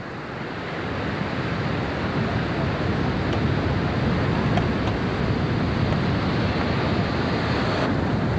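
Ocean waves break on a beach at Matinhos or Caiobá in the late afternoon, giving a steady, loud, broad roar of surf mixed with wind noise, with no speech.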